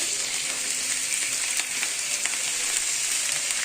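Vegetables frying in a pan while being stirred, a steady close sizzle with faint scraping strokes throughout and no voices.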